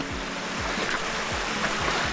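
A waterfall's runoff pours through a gorge as a small river, giving a continuous dense rushing hiss, near and unbroken, with no talking.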